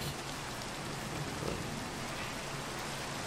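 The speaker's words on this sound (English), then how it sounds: "it's always either freaking raining on this world" Steady rain falling in the Minecraft video game, a constant dense patter that fills the whole stretch evenly with no voices and no thunder.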